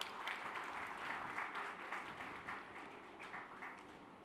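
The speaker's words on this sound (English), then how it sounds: "Give a cheer and clap." Crowd applause from a convocation audience in a large hall, steady dense clapping lasting throughout, moderately distant and even, with faint cheering mixed in.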